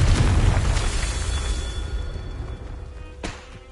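A fire-blast spell in a wizarding video game goes off as a loud, deep boom at the start, with a rumbling tail that slowly fades. A second, sharper burst hits near the end.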